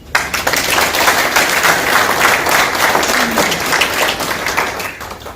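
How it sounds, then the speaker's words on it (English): Guests at a farewell dinner break into applause that starts abruptly and holds as a loud, dense crowd of clapping hands for several seconds. "we should have a clap for that"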